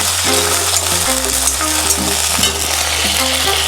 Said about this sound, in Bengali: দিয়েছি সয়া সস আর একটু টমেটো সস দিয়ে আর একবার নাড়াচাড়া করে নেব